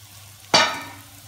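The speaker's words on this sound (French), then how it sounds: "Maintenant, on met tous nos poireaux." A single sharp burst of sizzling as leeks drop into a pan with softened onions, quickly fading into a gentle crackle over a low hum.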